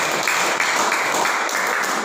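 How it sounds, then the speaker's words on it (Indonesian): Audience at a seminar applauding, a dense continuous patter of many hands clapping at once, loud and steady throughout with no talk over it. "Tepuk tangan, aplaus luar biasa untuk Pak Kasep."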